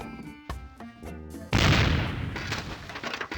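A cannon fires in The Curse of Monkey Island, a sudden loud broadband boom at about 1.5 seconds that cuts off quieter music and rolls into a long, noisy rumbling decay.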